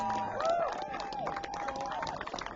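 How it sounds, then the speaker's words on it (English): Crowd noise with scattered clapping for a substituted player at a high school boys' soccer match while a commentator talks over it. "he gets a well-deserved round of applause"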